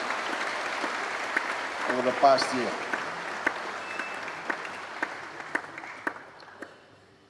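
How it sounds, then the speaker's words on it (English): Applause from an audience at a sports awards night rises under a man's speech and keeps going as a steady patter of clapping, with a few sharper claps standing out. "let's give a warm round of applause to all our athletes and their accomplishments"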